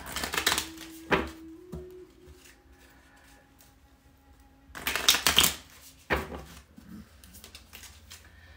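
A deck of oracle cards is shuffled close up in two brisk riffling bursts separated by a quiet pause, with faint handling noises and a low steady hum between them.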